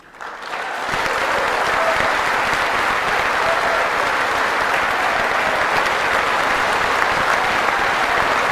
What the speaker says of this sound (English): Pelosi's clapping